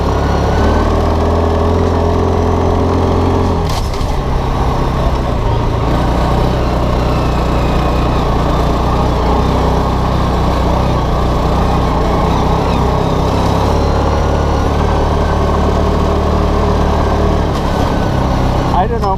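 A Linhai Big Horn 400 4x4 utility vehicle with an intermittent crank and stall fault runs with the choke partly pulled, giving a steady, loud, rough idle that drones on without letup for the whole stretch.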